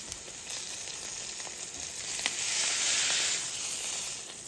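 Steak searing in a very hot pan gives a steady, close sizzle with a broad hiss that swells louder midway, and no voices over it.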